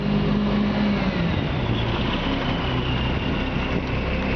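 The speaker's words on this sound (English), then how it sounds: "Rev it up just a little bit. Pull the throttle out." The engine of a 1989 GMC Brigadier rollback tow truck runs at a raised, steady rev with a low, throaty rumble and a brief higher whine near the start, close and continuous with no talking.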